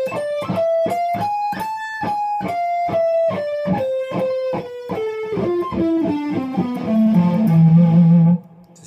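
A distorted electric guitar plays a fast lick, with quick picked notes running up and then descending, ending on a sustained low note that cuts off abruptly.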